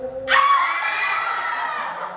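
A group of students lets out one loud, sustained shout together, rising sharply and then holding for about two seconds before fading slightly.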